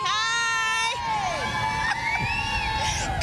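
A Christmas parade crowd cheers and whoops while children shout high and excited, a loud continuous outdoor din close by.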